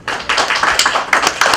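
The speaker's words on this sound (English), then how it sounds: "I think we should all give her a round applause." An audience applauds, a short burst of dense, close clapping that swells in uneven waves.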